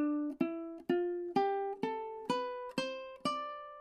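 Eight plucked ukulele notes climb a D Dorian scale one by one at an even, unhurried pace, each ringing briefly before the next, close and clear with no voice.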